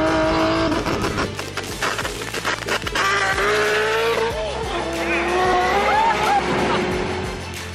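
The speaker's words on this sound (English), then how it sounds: "Toyota rolled out the 2JZ GTE, a 3-litre inline six with a sequential twin turbo setup" Toyota Supra with a 3-litre 2JZ-GTE inline-six and sequential twin turbos, heard loud and close as the engine revs and tires squeal and skid through a sustained run, with voices underneath.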